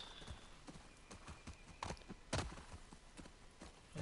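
Horse hooves clip-clop at a steady walking pace in The Last of Us Part II, close and fairly quiet with a few louder strikes, alongside a brief whinny.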